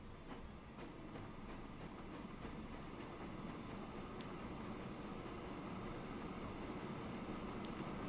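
A train rumbles along in Transport Fever 2, a faint, steady rolling drone with light clicking from the rails that holds evenly the whole time.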